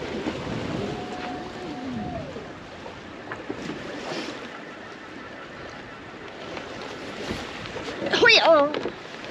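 A sailboat moves along off Magnetic Island. A steady rush of wind and water runs throughout with a faint hum underneath, and a brief bright flurry near the end.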